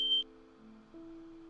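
A smoke alarm gives one short, sharp, high-pitched beep at the start, followed by quieter, steady low tones with no talking.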